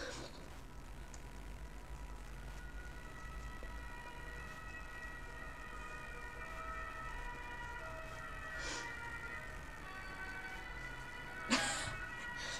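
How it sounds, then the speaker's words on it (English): Ambulance siren heard faintly in the distance, a wavering tone held under a steady background hum, with no talk over it. "Wow, the ambulances are there!"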